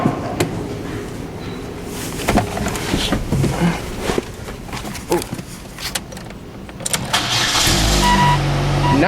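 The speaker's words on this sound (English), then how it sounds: "Let's see how she sounds and how she starts up." A Saturn car engine cold-starts with a cranking burst, then settles into a steady, fairly loud idle that runs high, heard up close with some clatter and handling noise around it.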